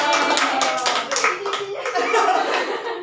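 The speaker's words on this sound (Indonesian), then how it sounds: "Tepuk tangan buat kita semua" A small group clapping hands together after a children's song in a brain-gym classroom activity, brisk and fairly loud for a few seconds, with light chuckles and voices mixed in.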